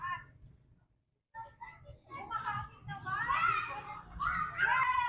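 Children play noisily in the town centre of Boac, Marinduque, their high voices chattering and calling out over several seconds after a brief lull, with a low street hum underneath.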